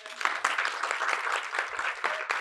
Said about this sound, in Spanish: Cerramos con esto con un aplauso.